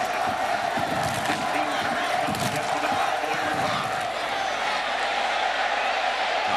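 A home football crowd in a college stadium at a Kansas at Oklahoma State game roars steadily after a defensive stop, with a continuous loud cheer and some talk under it.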